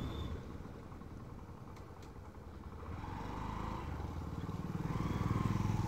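A motorcycle rides along a rough border road between Nepal and India, its engine droning steadily and swelling louder toward the end as it climbs in third gear.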